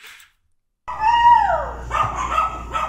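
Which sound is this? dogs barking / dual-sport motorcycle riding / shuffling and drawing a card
dogs barking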